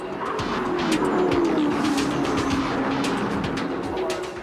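Stock cars in an international race in Melbourne, Australia roar past at around 140 mph, a steady loud engine drone with a sliding pitch and continuous dense noise from the pack.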